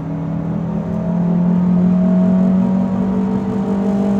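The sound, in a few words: RAM 700 pickup engine accelerating through the gears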